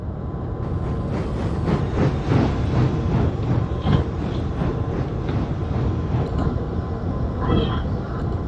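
A steam engine coupled to its tender chuffs along the railway with a rhythmic series of exhaust beats over a low rumble, while a narrator talks throughout.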